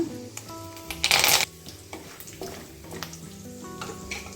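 Cashews, peanuts, curry leaves and a dry chilli frying in a pan for ladies finger fried rice, a burst of loud sizzling spatter as ingredients go in, then softer crackling with light clinks of a utensil, close, no talk.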